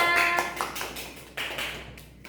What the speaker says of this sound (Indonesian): Oke, beri tepuk tangan untuk Juta.